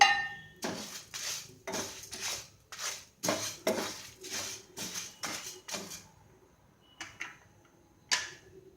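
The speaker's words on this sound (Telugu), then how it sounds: "ఇందులోనే కరివేపాకు, ఎండుమిర్చి కూడా వేసుకుని వేయించుకోవాలి." Coriander seeds, curry leaves and dried chillies roast in a pan, stirred in a quick regular rhythm of about a dozen rattling scrapes and clinks, followed by a couple of sparser taps.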